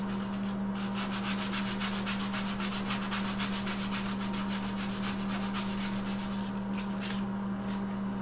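Hand sanding of delicate wooden fretwork, a steady rhythmic rasping rub repeated in quick even strokes, close and continuous with a low machine hum beneath and no talking.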